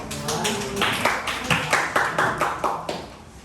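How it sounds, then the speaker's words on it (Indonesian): A group of people applauds a presenting student group in a classroom, steady rhythmic hand clapping close by that slowly thins out. "Beri aplaus untuk kepada kelompok 6"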